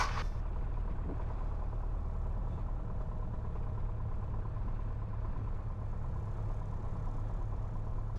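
A Piper Cherokee's engine idles on the ground with a steady, even low drone and a constant throb, close and continuous, with no voices.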